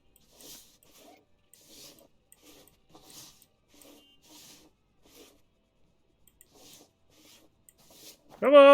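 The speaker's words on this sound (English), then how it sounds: "don't mind me, I'm just painting. Just painting the bathroom." Quiet, repeated brushing strokes from painting a bathroom in the Gas Station Simulator video game come in short, soft bursts separated by silence, followed by a voice starting at the end.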